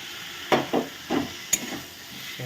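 Fried potatoes tipped into a sizzling spice paste for a rohu fish curry and stirred, several short scraping, sputtering bursts over a low background sizzle, no talk.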